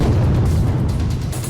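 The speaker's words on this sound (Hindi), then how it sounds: "सावधान हो जाइए, धमाका होने वाला है।" A loud explosion sound effect delivers a dense, sustained rumbling roar with heavy low-end boom that fills the whole short stretch without letup.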